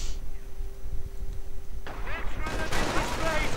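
Gunfire in a World War II strategy video game: a burst of rapid overlapping shots and crackling fire breaks out after a quiet stretch and grows dense and loud, with a low background rumble.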